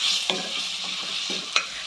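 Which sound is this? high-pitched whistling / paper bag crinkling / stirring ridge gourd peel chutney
stirring ridge gourd peel chutney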